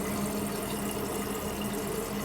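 A toilet on a third floor runs continuously after a hot water heater's expansion tank was changed, a steady, loud rush of flowing water with no voices.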